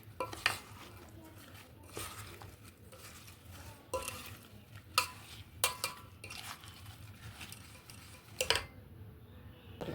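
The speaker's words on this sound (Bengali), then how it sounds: "সব আমগুলো ঢেলে দিয়েছি এবার মিক্সড করে নিই আস্তে আস্তে" Mango pieces for a garlic mango pickle are stirred into a spice mix with a spoon, giving repeated scraping and clinking strokes against the bowl, separated by quiet pauses, no talk.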